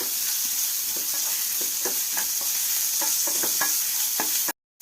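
Ingredients for an Ayurvedic home remedy for cough and cold fry in a pan until browned and the moisture cooks off, a steady close sizzle with repeated stirring scrapes, cutting off abruptly at the end.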